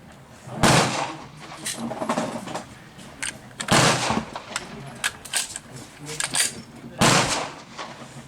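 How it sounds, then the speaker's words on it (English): Three loud, sharp reports from a Glock 30SF firing 230-grain Federal HST hollow points, spaced a few seconds apart, each trailing into outdoor reverberation, with faint background noise and scattered softer clicks between shots. "And we'll be firing the Glock 30 SF."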